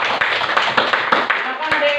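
Classroom students clapping hands together in a quick burst of close, fairly loud claps, layered over and briefly mixed with voices talking.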